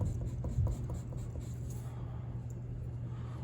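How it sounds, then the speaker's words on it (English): Pencil eraser rubbing across a handwriting worksheet in a quick, continuous scrubbing rasp for a couple of seconds, close and moderately loud, then fading to quiet room tone. "I'll just erase"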